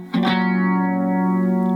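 A riff on a 3-string cigar box guitar, run through chorus and distortion effects. A single strummed chord rings out bright and sustained, moving along a descending bass line with no voices.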